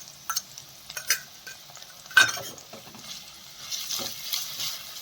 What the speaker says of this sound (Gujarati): પનીરને 1 મિનિટ માટે આપણે તેલમાં શેકી લઈશું